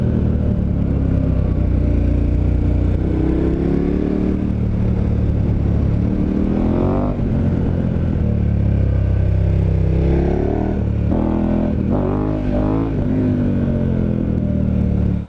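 A dual sport motorcycle on Avon TrekRider AV84/AV85 50/50 tires rides off-road, its engine droning loud and steady with rising and falling revs, plus clattering and rumbling from the ride.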